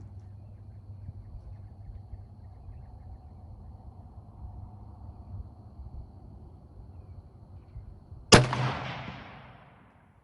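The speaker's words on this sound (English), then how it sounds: "Okay, final shot." A single sharp shot from an L42A1 Enfield rifle cracks out loudly after a long stretch of quiet low rumble, then decays in a reverberant tail lasting about two seconds.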